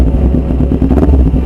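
A Kawasaki Ninja 250 FI motorcycle engine revs up close, loud and throaty, its low rumble pulsing as the throttle is blipped.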